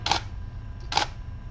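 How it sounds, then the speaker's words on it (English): Two crisp camera shutter clicks about a second apart, close and clear against a quiet background. "I better take a picture."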